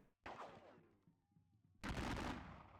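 Volleys of musket fire from a Napoleonic battle game erupt in two loud bursts, a sharp crack followed later by a heavier sustained roar of gunfire, with a quieter stretch and a faint tone between them.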